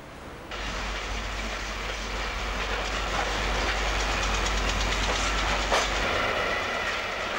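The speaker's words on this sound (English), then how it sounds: "This train from Grays is terminating at Upminster in the east-facing bay platform." Electric train pulling into the east-facing bay platform at Upminster Station, a service from Grays terminating: a steady low rumble and wheel noise builds and holds throughout, with faint clicks and a brief squeal near the end.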